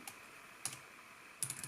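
A few sparse, quiet key taps on a foldable Bluetooth keyboard, in two short clusters over a faint steady background hiss, close by with no voices.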